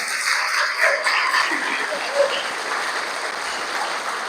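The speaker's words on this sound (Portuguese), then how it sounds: "Aplauda ao Senhor por sua palavra." A church congregation at an anniversary service claps in dense, sustained applause, a steady wash of many hands with no lulls, moderately loud and filling the room.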